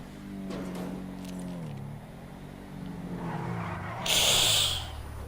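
A sports car in GTA V brakes and skids, its engine note sliding up and down before a short, loud tire screech near the end.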